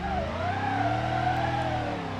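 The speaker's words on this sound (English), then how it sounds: "Let's see if this thing can do a burn down, huh?" An old squarebody pickup truck in BeamNG Drive holds a steady, loud engine roar with a wavering rising pitch during a burnout, tire squeal blending into the continuous drone.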